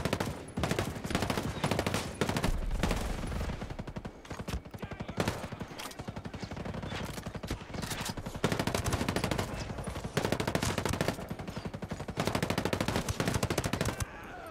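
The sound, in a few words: gunfire in video game Ghost Recon Breakpoint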